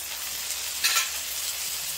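Ginger paste goes into a pan of oil with garlic already fried golden, giving a soft, steady sizzle with a brief louder hiss near the middle.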